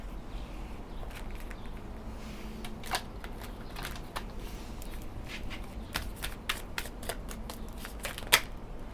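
Riffle shuffling of a deck of cards during a tarot reading, heard as a series of sharp papery riffles and snaps spread across the whole stretch, moderately close over a faint room hiss, with no talking.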